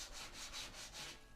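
Hand sanding of fibreglass filler on a Lotus Elan M100 body: soft, rhythmic back-and-forth rasping strokes, about five passes, close and quiet with no voices.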